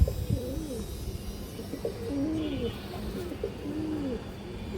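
Pankhi pigeons coo repeatedly nearby in soft, rolling bursts, several overlapping calls over a quiet background hum.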